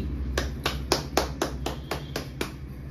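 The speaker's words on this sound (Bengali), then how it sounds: "এই হাততালিটা আমি দিলাম সমস্ত মোহনবাগান সুপার জায়ান্ট ফুটবলার" A lone person claps hands in a steady rhythm, about eight sharp, close claps evenly spaced over a few seconds, with a faint hum behind them and no talk.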